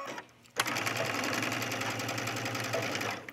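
A sewing machine stitches a short collar seam on a tunic. It starts up after a brief quiet moment, then runs in a fast, steady mechanical whir close by until the end, with no speech.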